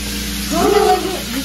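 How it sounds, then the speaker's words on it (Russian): Bacon frying in a pan gives a steady sizzle that swells briefly in the middle, with a faint voice murmuring underneath. "Бекон жарит."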